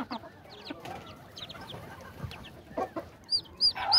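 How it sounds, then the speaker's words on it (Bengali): Three-day-old Cornish Bantam chicks give thin, high cheeps, scattered and fairly close, growing louder toward the end over soft background rustling. "এই হচ্ছে আমাদের কর্নিশ ব্যান্থামের বাচ্চা।"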